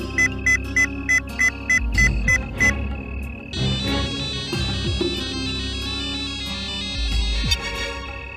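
A telephone rings with repeated short electronic chirps, then gives way to a louder, sustained melodic ringtone that carries on under scattered knocks and thumps.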